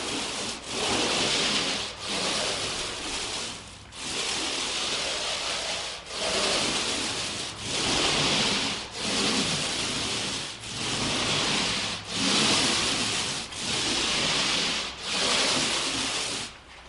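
A paint roller spreads paint across a wall in repeated long strokes, each a broad, soft rasping swish separated by brief pauses, steady and close throughout.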